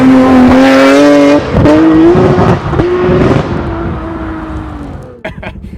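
A Nissan R32 GTR Skyline driving past, a loud, high-revving engine note that climbs, drops through a gear change, then fades away as the car pulls off into the distance.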